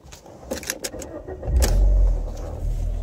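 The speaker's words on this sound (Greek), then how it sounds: "βάλουμε μπρος το αυτοκίνητο." An Alfa Romeo 147 starts up close by: a short clatter of keys and cranking, then the engine catches and settles into a loud, steady idle.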